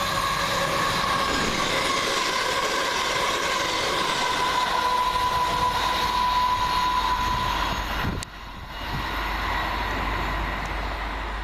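A London Midland passenger train on the Liverpool Lime Street to Birmingham New Street service rumbles steadily past at close range, a continuous loud roar with a sustained tonal whine, easing briefly near the end.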